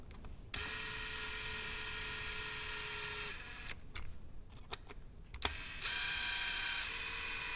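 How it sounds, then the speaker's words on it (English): A power screwdriver drives screws into an Arrma Typhon Grom RC car with its differential opened: a steady, close whirring burst, then scattered clicks and short ratchety bursts, and a second steady whir near the end. "Tighten these screws down"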